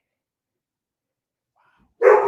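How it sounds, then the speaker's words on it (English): A dog, one of three in a home, barks once suddenly and loudly near the end, after near silence. "whenever something bumps, my dog gets really crazy"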